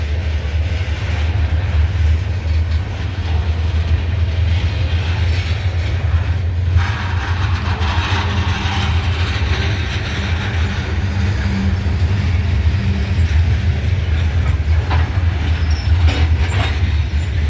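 CSX freight train cars, including granite cars, rolling steadily past with a loud continuous rumble, wheel clatter and faint squeal, close by and sustained throughout.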